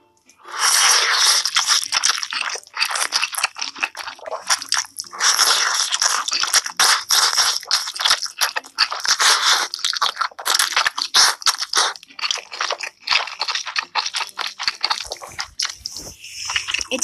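Crunchy ramen topped with melted cheese being eaten up close, with dense, loud, continuous crunching and chewing that has wet, slurpy edges and brief pauses between bites.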